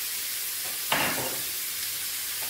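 Rice with chicken stirred in a pot, one short scraping stir near the midpoint against a faint steady sizzle, with no one talking.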